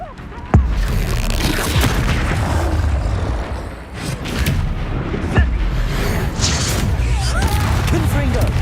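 Spell explosions in Hogwarts Legacy, dense booming blasts and crashing bursts over a constant rumble of combat. They are loud and close, and a voice calls out spell names over them.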